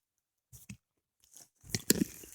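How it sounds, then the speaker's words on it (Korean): Crunchy chewing on a snack, a few close-up bites and munching noises in short bursts with quiet gaps between, no talking. "지금 간식 먹고 있어가지고 좀 쩝쩝 소리 낼 거예요."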